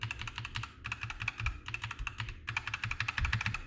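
Typing on a white HK Gaming GK61 mechanical keyboard: rapid, steady bursts of crisp key clicks with brief pauses between runs, close and clear with no talking.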